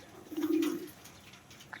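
A pigeon gives a single low, soft coo up close while the flock feeds on malunggay leaves, followed by faint rustling and a quiet backdrop.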